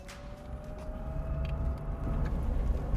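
An electric Porsche 356 driving on an open road at a historic motoring campus, with a steady low rumble of road and tyre noise and a faint electric whine holding throughout, no voices.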